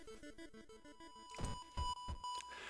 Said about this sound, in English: the silence of your apartment makes the beeping worse